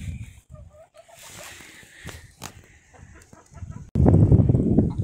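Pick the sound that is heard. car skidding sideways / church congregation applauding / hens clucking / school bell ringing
hens clucking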